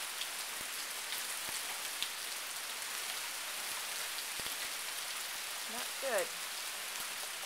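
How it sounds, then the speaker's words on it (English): Heavy rain falls steadily on a yard for hours, a dense even hiss of drops across the surface, with a few faint taps and a brief spoken comment partway through. "It has been raining this hard for hours and hours."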